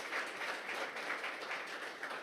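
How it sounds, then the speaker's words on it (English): Faint, distant applause from an audience at a sports announcement event, a soft continuous patter of many hands with no single claps standing out. "Give him a round of applause, huh?"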